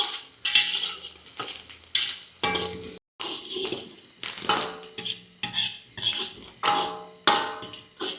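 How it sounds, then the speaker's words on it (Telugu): Boiled goat boti (tripe) fries in oil for a Telangana-style catering dish. A spoon or ladle scrapes and stirs the pan in regular strokes over a steady sizzle, close up, with no talking. "తర్వాత ఆయిల్లో ఖచ్చితంగా ఫ్రై చేసుకోవాలి."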